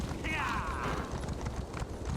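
A horse gallops in Elder Scrolls Online Morrowind, its hooves clip-clopping in a quick steady rhythm, with a brief whinny-like sweep near the start and speech faintly underneath.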